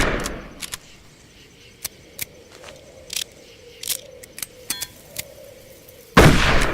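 Gunshots in the video game Darkest of Days, sharp single reports fired one at a time at irregular intervals during target practice, ending with a louder, longer blast.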